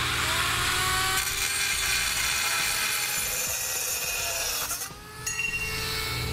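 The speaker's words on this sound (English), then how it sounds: "I'll use a rotary tool. Whatever you have, this is pretty thin metal," A rotary tool cuts through a thin metal panel on a 2017 Chevrolet, giving a loud, steady abrasive whine and rasp that runs almost without a break, dipping briefly near the end before resuming.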